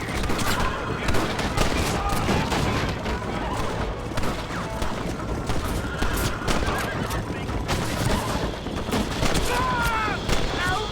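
Sustained gunfire bursts in Red Dead Redemption on Switch, mixed with horses neighing and hooves clattering during a chase, with voices calling out over the loud, busy scene.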